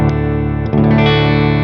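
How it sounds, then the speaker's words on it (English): A short burst of sustained electric guitar chords through a Stone Deaf PDF-1 X pedal in clean boost mode, clean but boosted and full, with a quick change of chord partway through. "If I turn the pedal on, it's like a clean boost."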